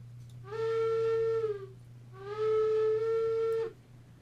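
Two long, mournful blasts from a steam locomotive whistle in Railroads Online, each held over a second and separated by a short pause, loud and clear against a low rumbling engine hum, with no talking.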